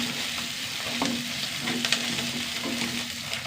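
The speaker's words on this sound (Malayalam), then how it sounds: "ഉള്ളി നന്നായി വഴണ്ട് വരട്ടെ." Onions sauté in a hot pan with a steady close sizzle and hiss, broken by a few soft scrapes of a stirring spoon. No voices are heard.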